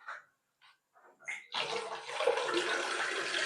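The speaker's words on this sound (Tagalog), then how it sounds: "Tingnan natin gano'ng lakas yung water." Water from a tap at a campsite washroom gushes in a steady, fairly loud stream after a few brief trickles and splashes, running on alone.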